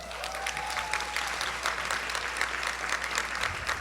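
Audience applause at a scholarship awards ceremony, sustained even clapping from a hall crowd, moderately distant and steady for several seconds, no voices over it.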